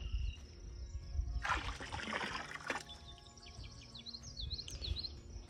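Hydrogen peroxide poured into a 50-gallon livestock stock tank outdoors, a steady splashing trickle lasting a little over a second, with birds chirping nearby before and after.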